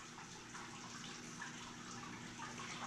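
Teriyaki marinade poured over bluegill fish frying in a pan, a faint, steady liquid gush and sizzle running throughout without talk.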